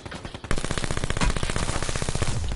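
Rapid automatic gunfire in the Blackout battle royale game, a short lead-in of background noise then a loud, dense stream of shots lasting about two seconds, close and unbroken.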